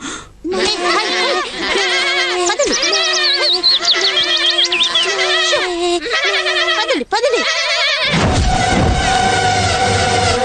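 Several goats bleat loudly and repeatedly, wavering cries overlapping one another at close range, followed by a burst of other noise near the end.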